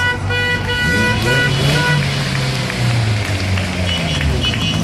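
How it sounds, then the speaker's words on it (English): Old cars roll past in a St Patrick's Day parade in Mallow, with steady engine and road noise, tonal horn toots near the start and a low droning hum throughout. "here we have another selection of old cars"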